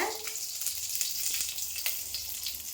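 Fenugreek, asafoetida, dried red chillies and curry leaves frying in oil while making kollu kulambu, a steady close sizzle with small crackling pops throughout.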